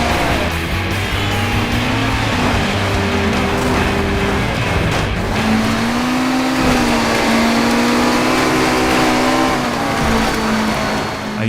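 A super buggy's engine roars in the PS3 racing game MotorStorm Apocalypse, loud and continuous, with a steady droning tone that shifts pitch as it revs, and no voices over it.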